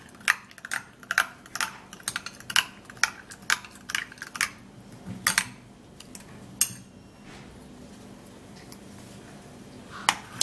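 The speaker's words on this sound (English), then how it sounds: "you have to stir and stir for a little while so that the egg and all of the ingredients can actually mix together" Egg and banana face mask mixture being stirred in a bowl, with a run of quick, crisp clinking taps from the utensil that fade into quieter intermittent clicks.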